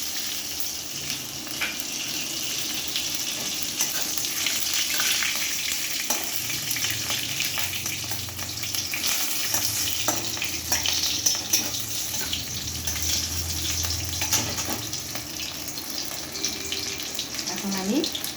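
Panch phoron spices fry in hot oil with a green chilli and a dried red chilli, giving a steady, close crackling sizzle with light stirring throughout.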